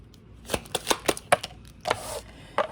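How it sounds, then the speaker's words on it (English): Oracle cards being shuffled by hand up close, a quick series of crisp flapping riffles and taps in uneven bursts, with no talking over them. "I'm gonna get a couple of oracle cards from Scorpio."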